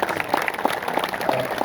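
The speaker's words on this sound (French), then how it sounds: "je voudrais quand même qu'on les applaudisse pour ce qu'ils ont fait" Audience applause after a French championship event, a steady dense patter of many hands clapping at moderate volume with a faint crowd murmur beneath.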